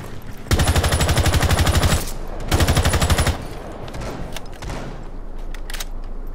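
Two rapid bursts of automatic gunfire from Rainbow Six Siege, loud and close, each lasting over a second, followed by quieter scattered shots and rustling game noise.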